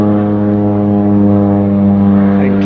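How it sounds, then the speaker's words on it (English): A crop duster airplane drones loudly overhead, its propeller engine giving a steady, close, harmonic hum throughout with no voices. "The one that just went through the trees was just a regular crop duster"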